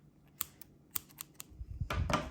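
Scissors snipping crochet yarn: a few crisp close clicks and snips, followed by a soft rustle of handling.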